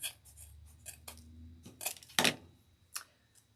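Scissors snip through deco mesh for a Valentine wreath, a handful of close, crisp cuts at irregular intervals with quiet pauses between them.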